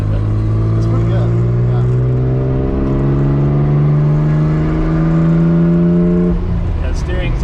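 A 500-horsepower Mitsubishi 3000GT VR4 revs hard while driving, its loud engine note climbing steadily for several seconds before easing off near the end, with an occupant speaking underneath the roar.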